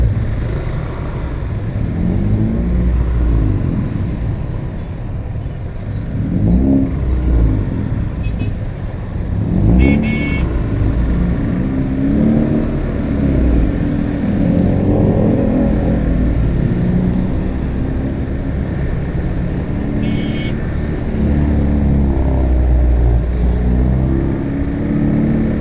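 Morning traffic jam on the Sidoarjo–Surabaya road: cars and motorcycles idle and rev nearby in a steady rumble, with engines rising and passing over continuous road noise.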